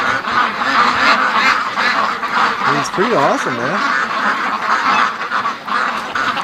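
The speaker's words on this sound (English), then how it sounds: "To be out here with 600, 650 ducks" A big free-range flock of about 600 ducks quacks and honks without pause, a dense, noisy chorus near and far, while someone talks over it for a moment.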